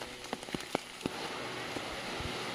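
Monsoon rain falls in a Darjeeling hill village: a dense, close patter on surfaces, with sharp individual drops plinking loudly in the first second before settling into an even, steady wash.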